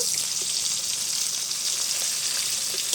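Dried red chillies frying in a generous amount of hot oil before hilsa fish goes in, a steady, even sizzle with no talk over it.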